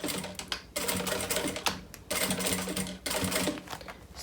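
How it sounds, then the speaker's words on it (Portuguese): Sewing machine stitching along the edge of a backpack, running in steady whirring bursts with short pauses between them, close and alone. "Agora eu vou passar a costura aqui na beiradinha pra dar um acabamento"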